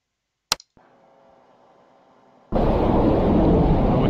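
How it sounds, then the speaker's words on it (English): An HAFM cruise missile blasts from its launch tube in Arma 3, with a sharp crack and a brief hum followed by a loud, sustained roaring rush of the motor. "Now we can hear it leaving the tube."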